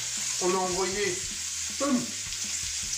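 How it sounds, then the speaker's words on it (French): Potatoes sizzle in hot frying oil for a street-food aloo chaat, a steady close hiss running throughout while someone speaks briefly over it. "nos pommes de terre vont directement dans la friture"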